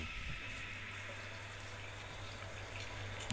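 Steady broadband rush of water running through a washing machine tub as it drains, with the water selector set to drain; a continuous, even flow with a low hum underneath, fairly close, no voices.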